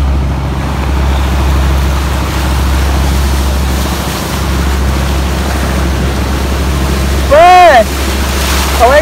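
Motorized dory boat on the low-water Pasig River, its engine a steady low drone with water wash and wind noise throughout, and a brief louder burst near the end.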